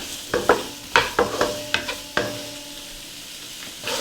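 Shrimp with garlic in a hot wok with vegetable oil, a steady sizzle beneath a series of sharp metallic scrapes and clanks from stirring, close and fairly loud, fading to a quieter fry.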